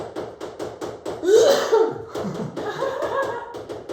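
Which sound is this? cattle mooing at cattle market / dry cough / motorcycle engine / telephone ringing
dry cough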